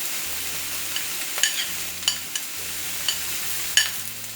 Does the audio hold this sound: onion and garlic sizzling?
yes